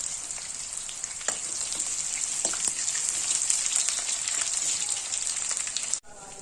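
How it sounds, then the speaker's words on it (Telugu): Onions with a bay leaf, cinnamon, cloves and cardamom frying in hot oil give a dense, steady sizzle that runs close and loud, then cuts off abruptly near the end. "వేడెక్కిన నూనెలో ఒక బిర్యానీ ఆకు, కొద్దిగా దాల్చిన చెక్క, 4-5 లవంగాలు, 3-4 ఇలాచీలు, చిన్నగా కట్ చేసుకున్న ఉల్లిపాయలు వేసుకోవాలి."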